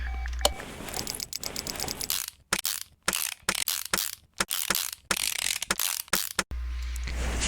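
A ratchet wrench removing many bolts in Car Mechanic Simulator 2018, with rapid clicking bursts repeated one after another and separated by brief silent pauses, close and clear with no talk.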